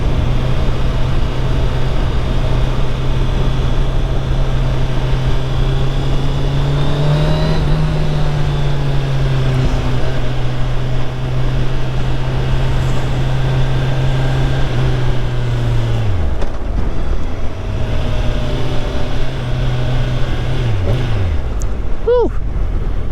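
A 2021 Kawasaki Ninja 1000SX sport motorcycle engine drones steadily, then dips in pitch around a shift up to third gear before revving up again, with wind noise throughout.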